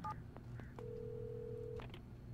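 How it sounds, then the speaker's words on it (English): Telephone in the Alan Wake video game giving a few faint electronic tones, with a short beep followed by a steady held tone lasting about a second, quiet against a low background hum. "A telephone!"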